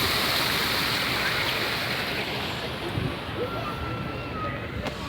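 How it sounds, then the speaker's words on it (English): Water running over the flanged lip of a small canal-side waterfall at Gunwharf Quays in Portsmouth, a constant close rushing wash that eases slightly partway through, with a faint voice under it. "It's got a flange on it and the water just runs over it, as you can see."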